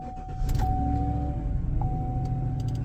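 A 5.3L truck engine, freshly fitted with a ported 6.2L intake manifold and ported throttle body, cranks and catches, settling into a loud, rough, steady low rumble with a brief whine near the start.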